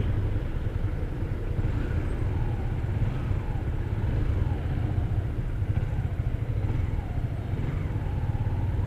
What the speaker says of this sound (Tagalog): Sobrang traffic dito sa Bisay at Bisayas Avenue.